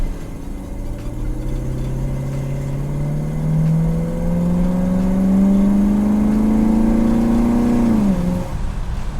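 A restored 1967 Buick Riviera GS accelerating hard on a road test, its engine note rising steadily in pitch and loudness from inside the car before easing off near the end.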